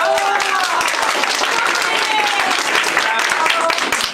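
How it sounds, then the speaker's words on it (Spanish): A Sunday church congregation breaks into applause for the girls. The steady crowd clapping is loud and close, with scattered voices and cheers in it, and lasts about four seconds before tapering at the end. "un aplauso para las niñas."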